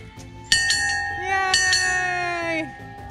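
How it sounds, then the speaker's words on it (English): A child rings a church bell, striking it twice so that bright, ringing tones sustain and slowly fade, with a voice briefly heard alongside. "Ring the bell!"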